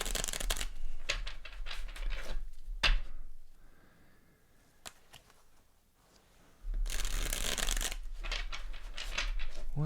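Tarot cards are shuffled close by in two long, crisp riffling bursts, with a quieter pause of soft card handling and slides between them.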